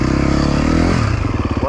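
A dirt motorcycle revs and sputters through a pivot wheelie on a sandy log, the engine loud and close with choppy, pulsing bursts as the throttle is blipped.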